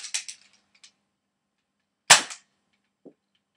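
A modded Switchshot toy gun firing, heard as a sharp close pop with a quick rattle, then a second louder crack a couple of seconds later and a faint thud afterward, set against silence.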